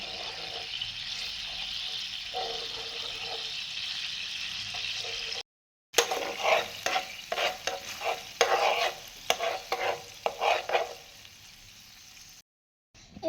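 Tomato sauce and soy sauce being stirred in a hot pan for chicken satay, with a steady sizzle at first and then busy scraping and clattering stirs, broken by two short silent gaps.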